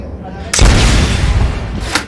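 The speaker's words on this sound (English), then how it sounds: "This is how you rocket jump." A rocket in a video game fires for a rocket jump, giving one sudden loud blast that rolls into a rumbling decay, with a second softer burst near the end.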